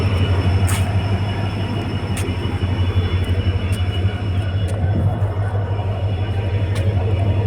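A train with two engines rumbles steadily into a station with a deep, constant engine drone and occasional faint metallic clicks, loud and close throughout.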